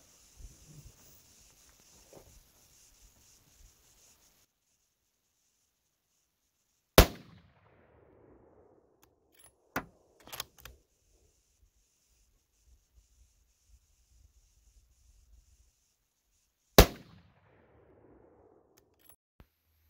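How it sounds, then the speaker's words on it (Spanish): Two or three sharp 7mm Remington Magnum rifle cracks ring out in near silence at 900 yards, each followed by a brief fading echo, spaced several seconds apart. "Hice dos tiros."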